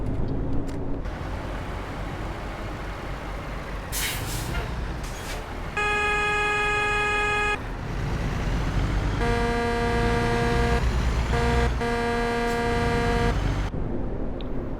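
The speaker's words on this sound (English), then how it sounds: "Yeah, the original horn. Then we'll do the air horn." A Peterbilt 352 cabover truck's air horn in a video game blasts in several long, loud, buzzy honks over a steady engine drone, with short gaps between them.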